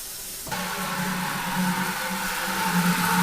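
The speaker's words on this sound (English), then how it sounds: "the Star San sanitizing solution makes a lot of bubbles. And you can see that it's fizzing up and bubbling pretty good in there" Star San sanitizing solution starts suddenly into a steady close fizzing and bubbling hiss, with a low flowing hum beneath that holds for the rest of the moment.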